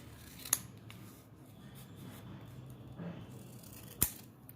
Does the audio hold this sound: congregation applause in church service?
no